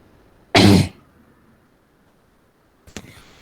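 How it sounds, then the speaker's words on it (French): A single sharp cough, close and loud, followed by quiet and a faint click near the end. "Avec le changement de temps, je tousse."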